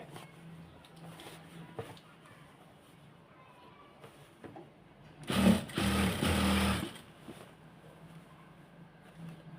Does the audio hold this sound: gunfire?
no